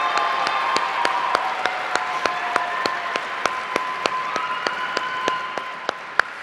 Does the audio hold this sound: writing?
no